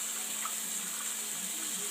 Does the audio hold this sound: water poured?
yes